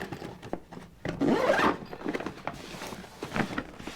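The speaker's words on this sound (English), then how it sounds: "We can zipper that thing back closed right there" Zipper on a Dye Discovery 1.5T gear bag being drawn closed, a quick near rasp repeated in short pulls with light handling noise around it.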